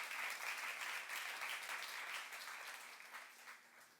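A church congregation claps together during a youth service sermon, a soft, dense wash of many hands heard from a distance, steady at first and then tapering off over a few seconds.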